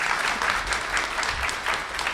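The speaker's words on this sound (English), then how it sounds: "You can clap too. Clapping's fun." Scattered clapping from a panel audience at San Diego Comic-Con, coming in uneven bursts rather than one steady roar, with no talk over it.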